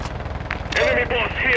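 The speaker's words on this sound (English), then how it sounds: "Taking fire!" Rapid automatic gunfire in Call of Duty Warzone on Ashika Island, a fast rattling burst with a voice shouting over it.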